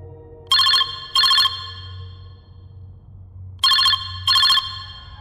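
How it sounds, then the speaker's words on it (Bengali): A phone ringtone plays two pairs of bright electronic ring bursts, each pair followed by a pause, loud and close over a faint low background hum with no talk. "হঠাৎ দেখি আমার ফোনে একটা রিং বেজে উঠল"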